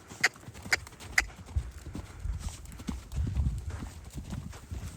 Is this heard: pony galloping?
yes